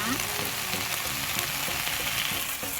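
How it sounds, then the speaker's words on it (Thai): Vegetarian stir-fry with soybean paste, mushroom sauce, a little palm sugar and vegetarian seasoning sizzling hard in a pan: a steady, loud frying hiss with stirring clatter throughout, no voices. "ผัดไปเรื่อยๆจนกว่าเครื่องจะสุกค่ะ"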